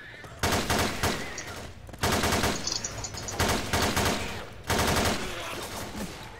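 Rifle fire crackles in repeated loud bursts during an online video game match, several rapid volleys spaced a second or two apart, close and dominant with no clear talk over them.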